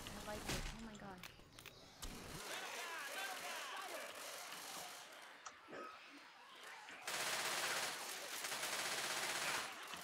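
Video game gunfire in an infected shopping mall, bursts of rapid shots and impacts striking a player, mixed with game noise and loud bursts near the end; people talk over it.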